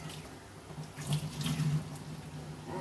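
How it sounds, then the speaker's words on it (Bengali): Lotus leaves are rinsed under a running kitchen tap, with water splashing steadily into a sink for about three seconds and swelling louder through the middle, close by, with no talking. "এই দেখো পদ্ম পাতা ধুয়ে নিলাম"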